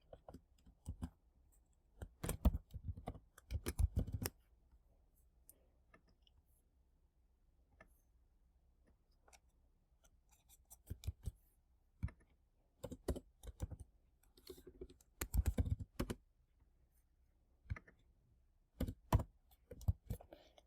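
Java code being typed on a computer keyboard, with irregular bursts of quiet, close key clicks separated by short pauses.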